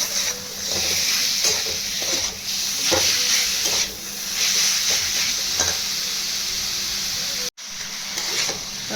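Chicken mince and onions stir-fry in a pan, giving a steady close sizzle and hiss broken by repeated scraping strokes of a spatula. One brief dropout occurs near the end.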